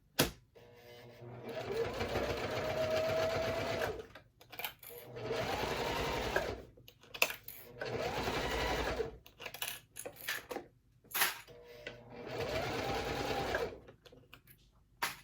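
A domestic sewing machine stitches across the bottom of a thick wallet seam in several loud, close bursts of steady whirring, separated by short pauses and clicks as the work is pivoted.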